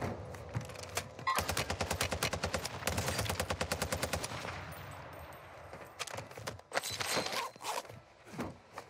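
Video game gunfire with rapid bursts of automatic shots, loud and close. A gap follows, then scattered shots and footsteps-like thuds. No one speaks.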